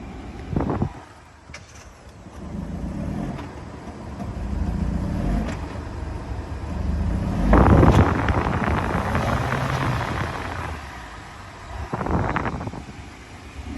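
A used auction car worth about $6,000 with a faulty crankshaft sensor stalls and is cranked back to life. Its engine runs with a low, steady rumble that surges twice, under wind buffeting the microphone.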